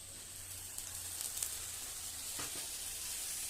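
Soft, steady sizzling of paneer curry with tomatoes frying in a pan, a quiet continuous crackle and hiss with no voices.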